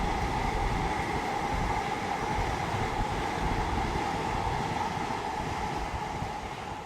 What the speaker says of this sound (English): lots of trains. That's just come from Cheshunt station.